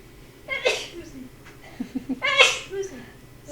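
A young boy sneezes twice, each a sharp burst about two seconds apart, close by and fairly loud in an indoor room with faint sounds of movement between.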